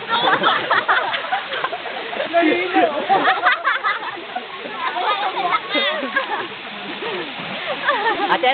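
At an outdoor team-building outing, people swim and splash in water, with steady churning and sloshing throughout while voices talk and call out over the noise.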